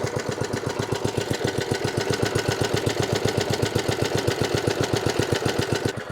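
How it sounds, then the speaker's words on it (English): An old Swardman petrol lawn mower engine runs at a steady idle, its rapid regular firing pulses loud and close, with no voices. "So this is my old Swardman mower."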